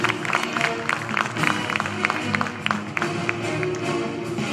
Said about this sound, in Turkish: yüksek alkışlarınızla